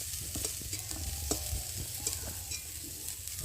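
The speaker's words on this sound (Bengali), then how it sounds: "আর এখন আমি কপিগুলোকে সব থালি করে তুলে নেব" Fried cauliflower is lifted from oil in a frying pan. Steady close sizzling runs throughout, with soft scattered clinks and scrapes of a spatula against the pan and no voices.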